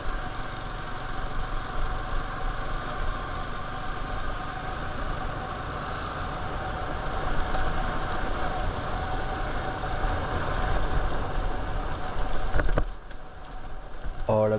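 Yamaha R15 motorcycle engine humming steadily while riding along a narrow rocky road, a continuous mid-pitched drone with road and wind rumble underneath, swelling slightly midway and cutting off near the end.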